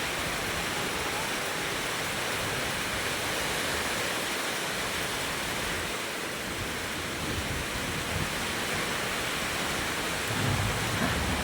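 Steady rain pouring outside a house during a storm, a dense, even wash of falling water close by with no voices.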